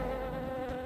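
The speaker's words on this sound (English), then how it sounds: "Ah, the bees!" A swarm of bees buzzes in The Doors of Trithius video game, a faint steady droning hum lasting under a second with no speech over it.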